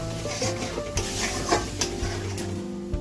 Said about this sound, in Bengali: এবার দুধের সাথে ময়দাটা খুব ভালো করে মিশিয়ে নেব।